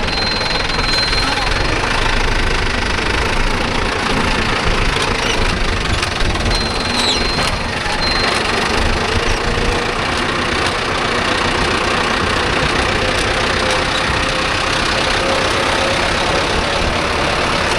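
A Mahindra Arjun Novo 605 tractor engine runs with a steady, loud, dense rumble on a coconut farm, keeping an even drone throughout with no clear revs or pauses.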